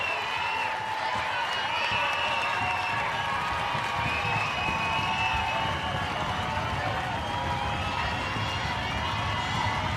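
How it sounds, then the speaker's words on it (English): A crowd at a college softball stadium (Omaha vs Missouri) keeps up a steady, dense roar of voices and cheering throughout. "Crowd into it here."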